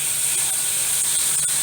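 Cumin and turmeric paste mixed with water poured into a hot pan for Bengali begun kopta, a loud continuous sizzling hiss with faint crackles throughout.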